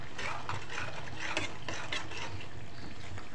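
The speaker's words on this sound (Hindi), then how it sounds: "अभी हमने टमाटरों को बहुत अच्छे से इसके अंदर मिक्स कर लेना है कि अच्छे से ग्रेवी बन जाए" Tomatoes being stirred into a soya chunk and potato curry gravy in a pan, soft scraping and gentle sizzling with a few clicks from the spoon, close and fairly quiet with no talk.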